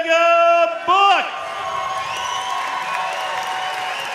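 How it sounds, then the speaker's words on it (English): A crowd at a grappling event cheers and claps for the winner after a triangle choke finish, a loud public-address voice ringing out at first before steady applause and scattered whoops carry on behind it. "And a round of applause to his opponent, Brian Peterson."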